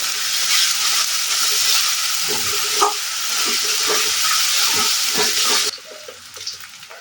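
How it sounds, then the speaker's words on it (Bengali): Ingredients for chicken tikka masala are stirred and fried in a pan, giving a continuous loud sizzle close by, with scraping stir strokes and a quieter stretch near the end. "এবার এই দুটো আমি একটু ভালো করে কষিয়ে নেব যতক্ষণ না কাঁচা গন্ধটা সারা গন্ধ হয়ে যাচ্ছে"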